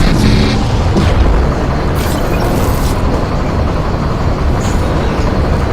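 Starship weapons fire and impacts from the video game Mass Effect 2 make a dense, loud, continuous roar of rumbling booms with sharper hits scattered through it, with no voices.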